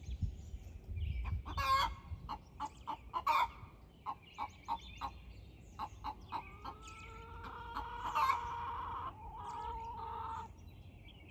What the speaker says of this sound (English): Got a turkey on out here. It's been making racket for like 10 minutes straight.